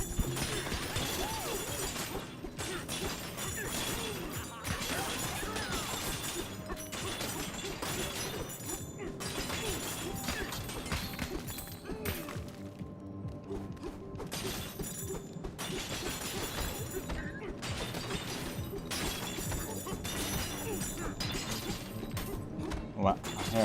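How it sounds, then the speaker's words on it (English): Shattering gold in Donkey Kong Bananza keeps crackling in a long, dense stream, with mechanical clicking and ratcheting game effects layered over continuous background music and a constant full level. "Shattering gold is satisfying."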